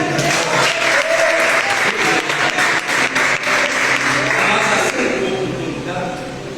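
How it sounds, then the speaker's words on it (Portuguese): A church congregation applauds loudly after a prayer, thick and sustained clapping with a few voices mixed in, then trailing off near the end as speech takes over. "Você pode aplaudir."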